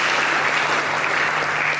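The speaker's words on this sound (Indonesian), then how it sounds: "Berikan tepuk tangan bagi Yesus Kristus." Church congregation applauding during a sermon, a steady, loud, full-room roar of clapping that carries on without a break.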